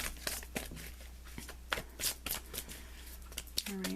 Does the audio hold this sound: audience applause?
no